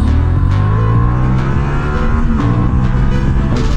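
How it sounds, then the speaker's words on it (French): A Honda Hornet 750 motorcycle accelerates hard away from a toll booth, its engine note loud and close, climbing in pitch through several sharp gear changes with brief dips between pulls. "tu sais qu'on va faire un départ du péage en vitesse max"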